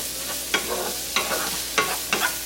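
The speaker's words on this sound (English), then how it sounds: "Going to give this a good stir. I want to cook this for about 5 minutes until all of the ground beef is cooked." Ground beef frying in a skillet hisses and sizzles continuously, broken by four evenly spaced scraping strokes of a spoon stirring through the meat, close and clear.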